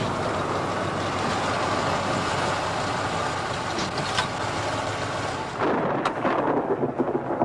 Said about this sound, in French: On a attendu cet orage si longtemps.